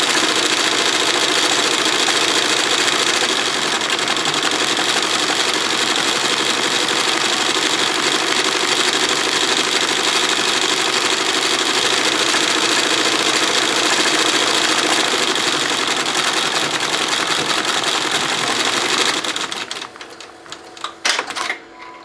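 A 15-needle NSWF embroidery machine stitches a design onto the back of a lined nylon shell jacket, a loud, steady, rapid mechanical chatter running close and continuous for about twenty seconds before winding down and stopping.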